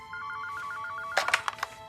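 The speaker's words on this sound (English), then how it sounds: "Somebody calls her at her desk" A desk telephone in a Christmas film rings in a repeating electronic trill, then gives way to a burst of louder clattering sounds near the end.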